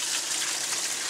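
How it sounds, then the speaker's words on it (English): Tap water pours steadily into a sink with no plug, a close, continuous hissing splash with no variation over about a second and no voices. "we're gonna go ahead and just get the water, not even tap it."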